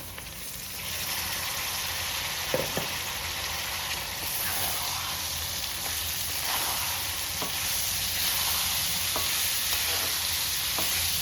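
Tomatoes tipped into a pan of sautéed onions for goulash set off a steady, close sizzle with brief stirring scrapes and clinks, continuous throughout without any talk.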